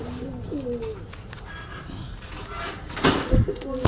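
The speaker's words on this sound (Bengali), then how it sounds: "কিছু সিঙ্গেল কবুতর দেখাচ্ছি দর্শক আপনাদের।" Pakistani pigeons coo at a pigeon market, a few soft close calls early on, then louder clattering and rustling near the end.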